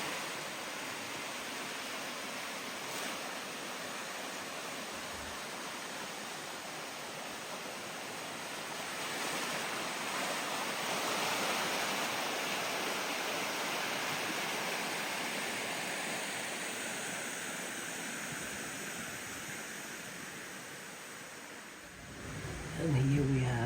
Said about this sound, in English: facing the river.